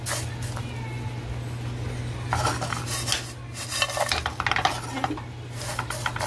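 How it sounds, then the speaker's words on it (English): Sunflower and pumpkin seeds dry roasting in a pan over a medium flame: a spatula scrapes and stirs steadily, the seeds rattle and clink against the metal, all over a constant low background hum. "So we'll dry roast it just for 5 minutes or so on medium flame."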